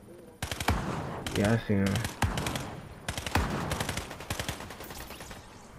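Rapid automatic gunfire in the video game Fortnite, several close loud bursts of fast repeated shots separated by short pauses, with someone briefly talking between them.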